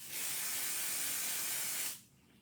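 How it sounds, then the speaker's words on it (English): Pixie spray hisses onto a stencil in one loud, steady burst of about two seconds, then cuts off, close by with no talking. "And I'm going to spray my stencil."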